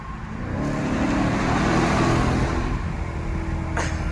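A loud car engine fitted with a cold air intake rumbles close by with a steady, heavy drone that swells slightly and holds, and a brief higher whoosh comes near the end.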